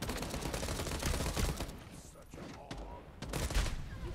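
Assault rifle and machine gun fire in the shooter game FragPunk: dense, rapid volleys of gunshots, loudest in the first second and a half, then thinner bursts with brief pauses before firing picks up again near the end.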